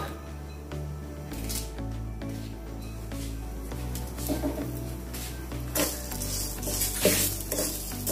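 Curry leaves hit hot oil with asafoetida and salt, giving a steady close sizzle under repeated scraping and stirring in the pan, with occasional louder crackling bursts.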